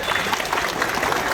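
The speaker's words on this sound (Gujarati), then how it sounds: "આપણે તાળીઓ પાડીશું." An audience applauds at a village government outreach event, a dense, even wash of many hands clapping at a distance, sustained and moderately loud throughout the short stretch.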